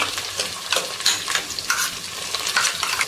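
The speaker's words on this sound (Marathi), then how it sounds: "आता मसाला व्यवस्थित परतून घेऊया" Roasted masala paste for Karnataka-style vegetable pulao fries in a pan, a bright crackling sizzle broken by repeated scraping strokes of a spoon stirring it in an uneven rhythm.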